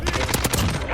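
A short, loud gunshot from a shotgun or sniper rifle in a video game cracks close up, with quick repeated hits blurring together under some talking.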